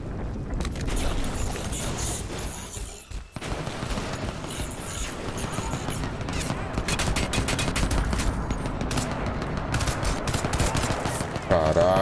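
Dense, continuous automatic gunfire from the video game Crysis 2, with loud rapid bursts running nearly throughout, a brief lull around the third second, and voices in places.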